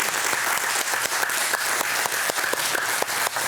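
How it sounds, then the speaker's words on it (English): A large audience applauds Dr. Carbone at a lung cancer community gathering, a dense, steady wash of clapping that holds at an even level throughout. "a huge round of applause and thank you for Dr."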